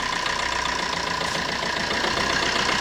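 A used 2014-model car engine idles in a steady, even drone with a faint hum, close by and continuous, with no voices.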